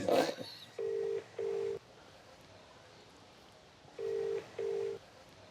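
A telephone dials out and the ring-back tone sounds in two pairs of paired beeps with a long gap between them; the call goes unanswered, clear and close over a quiet room, with a brief voice at the start.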